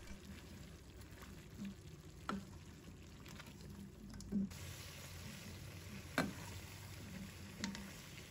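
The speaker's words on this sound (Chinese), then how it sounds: "再把青红椒加入锅中，蒜苗也加进来，把它炒至断生" Green and red peppers with garlic sprouts stir-fried in a wok, a steady soft sizzle with occasional clinks and scrapes of the spatula against the metal.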